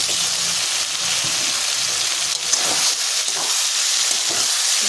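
Chicken being fried in a cooked-down spice masala for a coriander chicken dish, giving a steady, loud sizzle with a few faint stirring scrapes and no talking.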